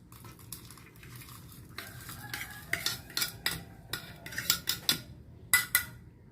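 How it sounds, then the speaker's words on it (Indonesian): Ingredients for homemade cola are dropped and stirred into water in a kitchen, making a run of sharp clinks and taps that grow busier and louder toward the end, with no talking. "semua bahan-bahan ini kita masukkan ke air yang akan kita gunakan"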